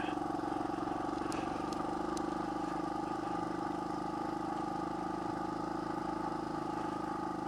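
A motorcycle engine runs steadily in second gear on scenic backroads near Baños, Ecuador, a continuous mid-pitched drone at moderate distance with faint wind noise and a few brief ticks.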